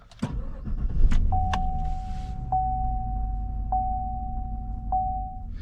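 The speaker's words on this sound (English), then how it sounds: "we'll start it up" A 2017 Chevy Tahoe SSV starts up, with a brief crank and engine catch followed by a steady idle rumble and a repeating chime pinging at regular intervals.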